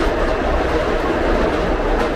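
Inside a train running fast downhill through a tunnel, a loud, dense roar with rattling wheel noise fills the space continuously, close and steady with no talk.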